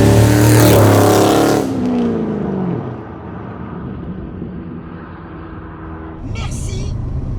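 A Corvette C5 engine roars loudly through its exhaust, a rising then falling growl that settles into a lower rumbling idle, with a brief burst near the end.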